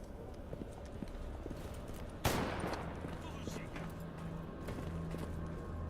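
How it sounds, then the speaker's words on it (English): A single sharp gunshot cracks out midway through play in the GAMMA shooter game, loud against a constant low background rumble and hum. "we're going to immediately hear some gunfire"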